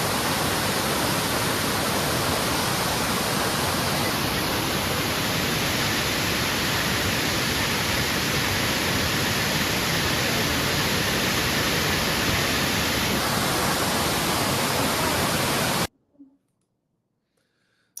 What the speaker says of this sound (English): But here is Anna Ruby Falls.